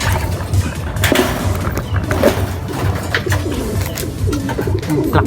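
Racing pigeons arrive at their loft during a race in Candelaria, Quezon, cooing softly and repeatedly up close amid wing flutters and outdoor background noise.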